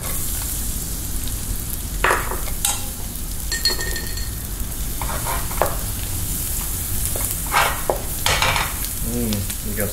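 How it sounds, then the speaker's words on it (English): Garlic sizzles in hot butter in a pan, a steady close frying hiss with occasional stirring scrapes and clinks, no talk. "Butter is in."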